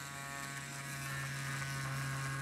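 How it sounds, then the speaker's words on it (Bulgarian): A tattoo machine runs steadily with a constant electric buzz and fine mechanical rattle as the needle cuts deep into a fruit. The sound is continuous and close, with no talking. "Мастилото свършено, машинката продължава да дълбай."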